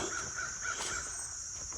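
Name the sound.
crows cawing in the background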